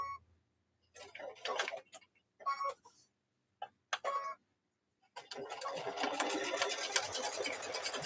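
A sewing machine running a double blanket stitch along pot holders, with short bursts of stitching followed by a longer continuous run; quiet and close.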